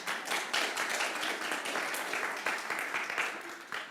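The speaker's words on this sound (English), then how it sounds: "We're clapping for our first-time platform assistant," Church congregation clapping for a first-time platform assistant during a Sunday service, sustained scattered applause with crisp individual claps nearby, moderately loud and gradually thinning toward the end.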